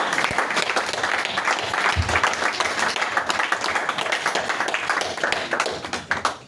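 Dense, sustained applause from a church congregation during a praise and worship service, loud and continuous throughout, with a faint voice underneath.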